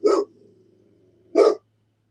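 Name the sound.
dogs barking indoors and outside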